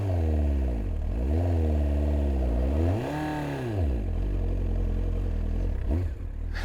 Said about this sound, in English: Okay, some more revs.